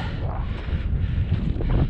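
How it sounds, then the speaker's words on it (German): Gusty wind on an exposed ridge trail in the central Black Forest buffets the microphone with a steady, loud low rumble and no voices. "Wenn es auch ein bisschen luftig ist und windig"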